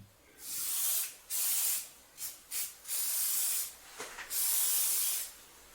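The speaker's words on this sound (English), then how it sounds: "Here I'm spraying it with a ballistol, which is basically like WD-40, but it's food safe." Repeated bursts of hissing aerosol spray from a can of Ballistol lubricant onto a metal lathe cross slide, several short and long puffs with brief pauses between, close and fairly quiet.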